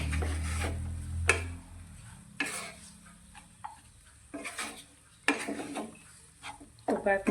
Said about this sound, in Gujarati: ભાતને પણ આપણે સારી રીતે મિક્સ કરીશું